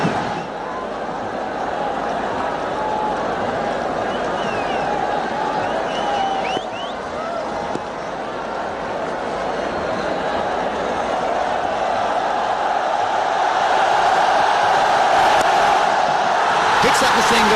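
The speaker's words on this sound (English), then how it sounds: "The crowd are really enjoying this onslaught from both these batsmen" A large cricket crowd at an India versus Pakistan final roars steadily after a big six, a dense sustained swell of cheering and whooping that grows slightly louder toward the end.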